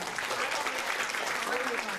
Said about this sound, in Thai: ปรบมือกับช้างตัวนี้หนึ่งครับ